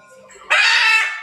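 A pet parrot lets out a single loud, harsh squawk after a softer lead-in call, close and alone.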